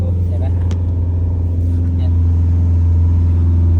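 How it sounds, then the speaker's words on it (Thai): Car descending a steep mountain road held in first gear under engine braking, with a loud, steady low engine drone and rumble that stays close and continuous, while a person talks over it. "นี่เราก็ลงลากเกียร์หนึ่งยาวๆนี่ถ้าไม่เคยชันมากเราก็แทบไม่ได้เบรกเลย"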